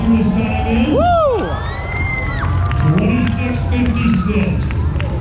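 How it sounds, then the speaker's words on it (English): A crowd cheers and shouts at a monster truck show, with high whoops and children's yells rising over a constant roar of voices and clapping. "Give him a big round of applause"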